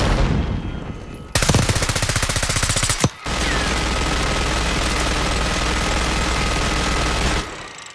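Minigun fire in the video game Call of Duty Black Ops 6: a rapid run of loud, evenly spaced shots, then a dense continuous roar of fire for several seconds that cuts off abruptly.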